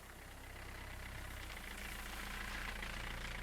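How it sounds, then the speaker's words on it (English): A tractor or truck engine idles in the Loretta video game, a low, steady rumble that holds faint and even throughout. "Sounds like a tractor or a truck."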